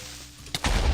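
A sudden burst around the middle, followed by a loud, rumbling Minecraft creeper explosion that fills the rest of the moment; no voices.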